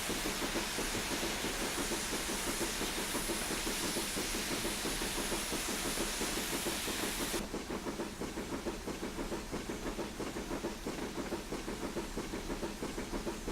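A Black 5 steam locomotive labouring up a gradient on Scottish western lines, a fast, steady chuffing exhaust beat over constant hiss, sustained and close, with the tone shifting partway through.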